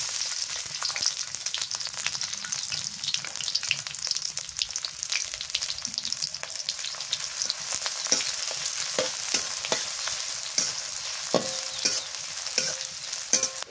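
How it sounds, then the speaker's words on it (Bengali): Onions fry in hot oil with a steady crackling sizzle, broken by frequent sharp spits and stirring clicks, heard close with no talking. "পেঁয়াজটা ভাজে আর শুকিয়ে দিয়ে তেলের মধ্যে ভালো লাগবে।"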